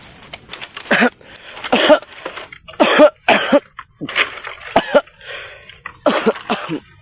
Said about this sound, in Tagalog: inuubo na ako sa nakain ko na ano